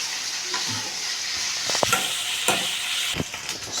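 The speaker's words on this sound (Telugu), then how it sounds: "మనం ఎండు రొయ్యలు కొన్ని వేపేసి పెట్టుకుంటే సరిపోయింది" Dried shrimp frying and being stirred in a pan for a Telugu-style curry, a steady close sizzle with scraping stir strokes and a few sharp clinks of the spoon, no talking.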